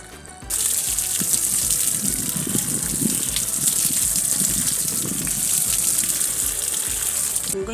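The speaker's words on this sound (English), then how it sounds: "I'm going to give it a quick rinse and wash it very well" Running tap water gushes steadily into a sink as fresh strawberries are rinsed for a yogurt smoothie. The water starts abruptly and keeps a loud, even rush throughout, with no talking.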